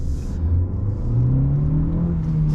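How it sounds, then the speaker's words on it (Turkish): A 2021 Nissan Qashqai 140-horsepower petrol engine revs up nearby, its pitch rising smoothly from a low rumble into a higher, steady drone. "Motorun sesi güzel"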